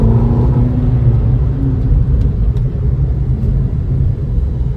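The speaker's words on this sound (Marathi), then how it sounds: "ही डायरेक्ट गाडी आहे, हिचा पिकअप पण मस्त आहे" A car's engine rumbles steadily while driving, a low, loud drone with road noise and a faint rising whine early on, heard from inside the vehicle.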